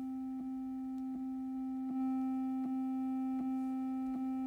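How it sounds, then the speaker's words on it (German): A metronome app clicking at 80 BPM, evenly spaced short clicks, six of them, over a steady sustained tone. "Ich verwende eine Metronom-App und zwar heißt die App GapClick."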